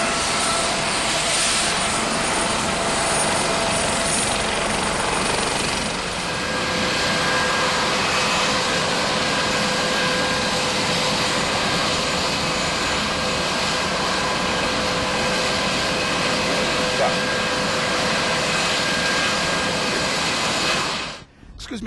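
Helicopters fly in to the Hamptons airport, making a loud sustained engine and rotor roar that stays close and steady for about twenty seconds before dropping away abruptly at the end.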